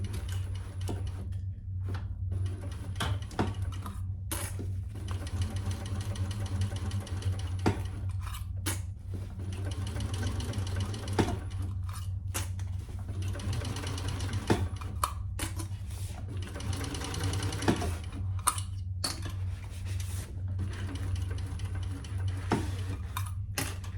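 Sewing machine named Thor stitching a crossbody bag, running in short bursts of rapid mechanical ticking with brief pauses between runs, close and fairly quiet with no voices.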